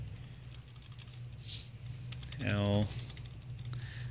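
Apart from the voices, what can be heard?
typing letters on a computer keyboard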